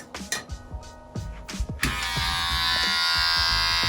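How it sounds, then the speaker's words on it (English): Electric beard trimmer, preceded by a few clicks and knocks as it is handled, then switched on into a close, steady buzzing hum that continues to the end. "I actually use my beard trimmer for this."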